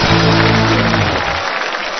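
Studio audience clapping on a Chinese televised talent show, loud and dense for about a second, then thinning and fading out.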